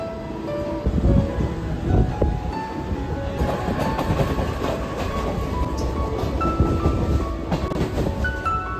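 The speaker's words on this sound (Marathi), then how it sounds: "आता ना 2:16ची ट्रेन लागलेली आहे CST." A Mumbai suburban local train bound for CST stands at a station platform, giving off a steady, dense rumble and clatter with no speech.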